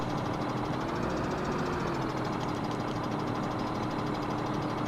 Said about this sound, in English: the other trucks in here are ridiculously loud